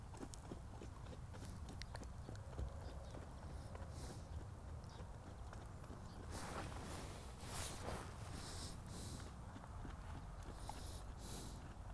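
Rhythmic clip-clop of a ridden horse's hooves on the ground at a steady gait, fairly close, with a soft wash of outdoor wind and rustle.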